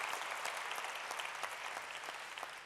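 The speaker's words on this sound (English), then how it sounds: "Big round of applause there." A live audience at a sports performance panel in Birmingham breaks into a big round of applause, dense steady clapping that slowly tapers off toward the end.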